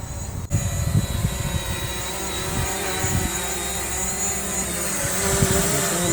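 Steady high-pitched whir of a Hubsan Zino quadcopter drone flying at a distance, a continuous buzzing hum that holds level throughout over faint outdoor background noise.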